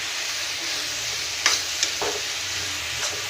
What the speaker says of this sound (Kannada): ಟೊಮೊಟೊ, ಕೊತ್ತಂಬರಿ, ಶುಂಠಿ, ಬೆಳ್ಳುಳ್ಳಿ ಎಲ್ಲ ಹಾಕ್ಕೊಂಬಿಟ್ಟು ಫ್ರೈ ಮಾಡಿ